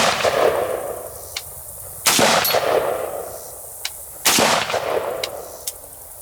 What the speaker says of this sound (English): So here's a Wyndham Weaponry AR-15, and we're loaded up with some 223 full metal jackets.